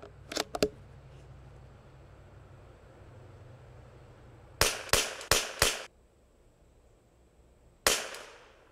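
Springfield 2020 rimfire rifle fired with Lapua Exact ammunition: two sharp shots near the start, a quick string of four shots in the middle, and one more shot near the end, with quiet gaps in between.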